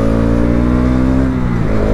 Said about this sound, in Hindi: तो अभी मैं आपको रेव मैच करके दिखाता हूँ